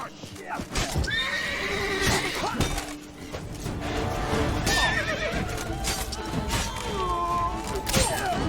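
A horse in The Witcher 3: Blood and Wine whinnies loudly over clip-clopping gallop hooves and game effects.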